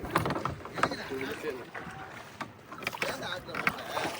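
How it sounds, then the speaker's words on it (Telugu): A small boat moves through mangrove forest waters near Chidambaram, with irregular nearby splashes and knocks of paddling and hull against water, fairly faint, with voices faintly in the background. "చూడండి మళ్ళీ పడవ"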